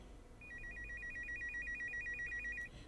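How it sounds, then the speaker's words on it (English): A reception desk telephone rings in a lobby, an electronic trill that pulses rapidly and steadily for about two seconds, clear and moderately close over a faint room hum. "the reception text phone suddenly rang"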